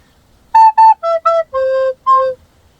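Six recorder notes from a song in pairs, two A's, two E's, then two lower, longer C's, played cleanly and close with no talking.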